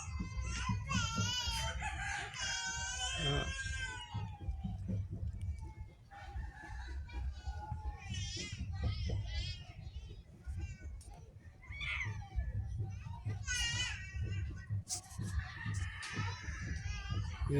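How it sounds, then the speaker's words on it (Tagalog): Hybrid chickens crowing and clucking outdoors near a beach, several loud crows in bursts with brief clucks between, over a low background rumble and occasional faint voices. "Yan ang manok ko mga idol,"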